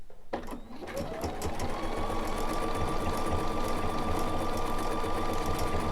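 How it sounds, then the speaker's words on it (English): A sewing machine embroiders a quilt label, starting after a few clicks and then running in a steady, loud, unbroken mechanical whir with a rising tone that settles into a constant hum. "start stitching and see what it looks like"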